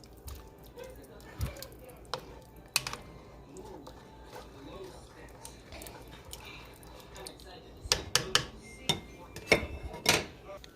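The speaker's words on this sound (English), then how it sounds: "And now I stir that up a little bit." Pasta e fagioli soup stirred in a pot, with soft wet squishing and occasional sharp clinks of a utensil against the pot, louder scraping knocks clustering toward the end, under a speaking voice.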